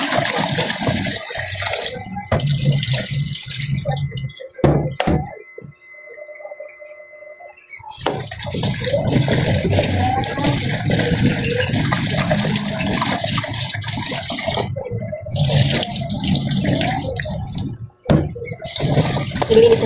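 Water running from a tap while something is washed at a sink, a continuous splashing stream broken by a few short pauses and clatters, fairly close and steady.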